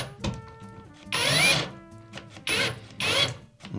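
A Black Zero cordless drill drives bolts in three short bursts of whirring motor, each rising and cutting off, with brief pauses and small clicks between them.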